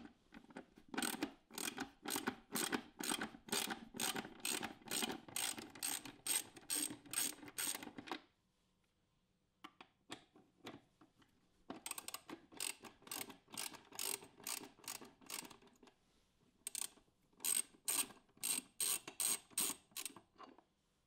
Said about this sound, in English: Now for the two screws, use a 10mm ratchet.